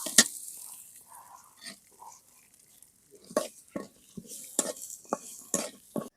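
Lentils (dal) frying in oil in a pan and being stirred, with intermittent clinks and scrapes of a utensil against the pot over a faint sizzle, quiet and close.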